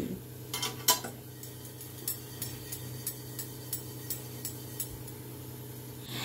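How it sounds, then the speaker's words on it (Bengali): Roasted mustard is stirred in a pan: a utensil scrapes and taps the metal in a slow, regular rhythm of light clinks over a faint background sizzle. "আমি ভালো করে নাড়াচাড়া করে নিচ্ছি"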